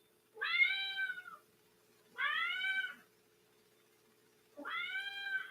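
A cat meowing three times in long, drawn-out calls spaced about two seconds apart, fairly close and clear over a quiet background with a faint steady hum.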